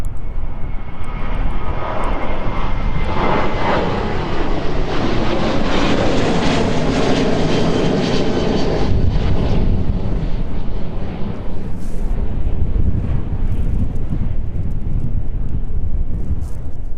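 A Boeing 737-800 jet roars down runway 27 on its takeoff run, a loud continuous engine rush that holds steady throughout, with some wind buffeting on the microphone.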